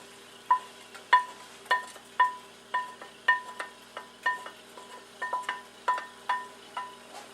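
Cooked onions being scraped and moved from a skillet onto a plate, heard as a series of about a dozen sharp metallic clinks and scrapes in an uneven rhythm, close and moderately loud, with no talking.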